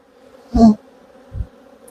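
Honey bees at an apiary hive hum in a steady low drone, broken by two brief, closer buzzing bursts as bees pass near.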